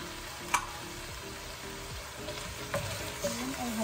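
Kare kare stirred in a pan after salt and black pepper go in, a soft continuous sizzle with faint scraping stirs and a few light clinks, fairly quiet.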